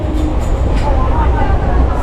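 A loud, steady rumble and rattle from inside a moving Vasai–Panvel MEMU local train fills the space, close and continuous.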